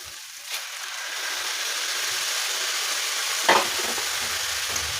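Tomatoes go into a pot of frying beef stew, raising a steady loud hiss and sizzle throughout, with a couple of brief clinks and a stir as they drop in, close and without talk.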